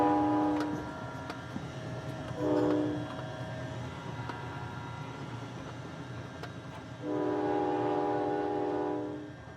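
A train passes in a continuous low rumble and rattle, broken by two loud sustained horn blasts, one short and one longer, with no talk over it.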